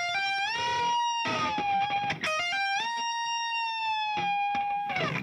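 Electric guitar playing a lead line from a song, with sustained distorted notes that bend upward and glide between pitches, some re-bent without picking, close and alone.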